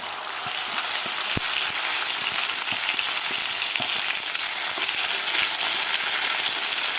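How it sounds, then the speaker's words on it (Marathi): Whole spices with a small piece of cinnamon sauté in hot oil for chole masala, giving a steady, close, continuous sizzle and crackle with occasional sharp pops and light clicks of stirring, no voices. "आपल्याला व्यवस्थित हे परतून घ्यायचं आहे."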